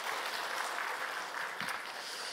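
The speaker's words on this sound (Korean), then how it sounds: "우리 박수로 한번 격려하겠습니다." A Korean church congregation at a Sunday service claps together to encourage a bereaved family, giving a dense, continuous patter of many hands at an even level with no voices.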